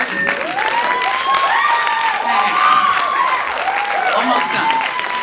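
A comedy club audience applauds during a stand-up set, with loud, sustained clapping mixed with whoops and shouted cheers running throughout.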